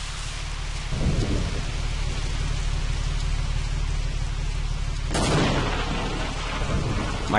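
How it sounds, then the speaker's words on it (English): Lightning strike and thunder crash over steady rain in the video game They Hunger, a loud rumble breaking in near the first second and a sharper second crack around five seconds, both over continuous heavy rainfall with no voices. "My car gets hit by lightning."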